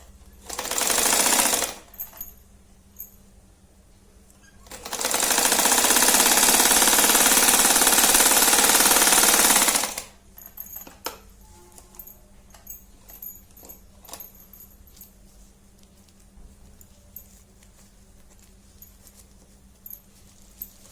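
A sewing machine stitches a zipper onto a small one-fold coin pouch, running in two bursts: a short one of about two seconds, then a steady five-second run, each ending abruptly into a quiet room with light handling clicks.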